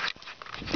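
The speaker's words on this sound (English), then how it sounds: "The dog is gonna eat us." A dog gives a brief close whimper and sniff, a short, soft vocal burst lasting under a second.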